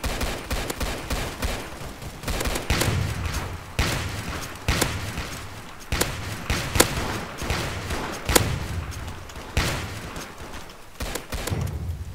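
Repeated gunshots from a shotgun in a video game, sharp blasts recurring irregularly over a continuous rumbling game soundscape, with other gunfire and thuds mixed in.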